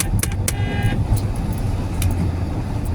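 A car horn gives a short beep in moving road traffic, a single quick toot over a steady engine and road rumble.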